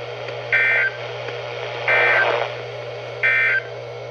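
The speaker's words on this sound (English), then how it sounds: "This has been a test of the No Weather Radio Warning Alarm device." NOAA weather radio warning alarm test: three short, loud electronic buzzer tones spaced about a second apart over a low, steady hum.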